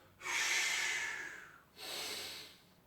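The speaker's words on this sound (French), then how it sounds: "Donc on souffle bien pour descendre et souffle bien pour monter." Slow breathing during a strengthening and posture exercise: two long, airy exhales, the first stronger and about a second and a half long, the second softer after a short pause, close and alone.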